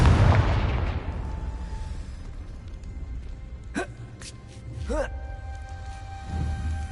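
A Confringo blasting spell bursts in Hogwarts Legacy with a heavy boom at the start that decays into a rumbling tail, followed by fainter magical whooshes and chiming effects.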